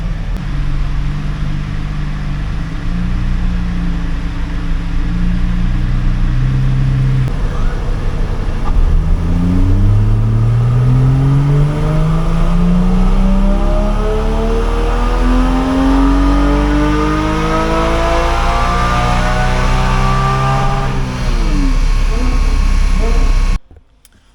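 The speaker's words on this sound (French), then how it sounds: "ensuite on pourra faire un tir" A Porsche Cayman 718 GT4 being prepared for track use runs a full dyno power pull. The engine rises steadily and loudly from a low idle to a high-revving wail for about fifteen seconds, then drops away abruptly and cuts off.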